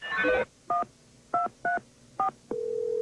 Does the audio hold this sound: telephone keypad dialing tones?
yes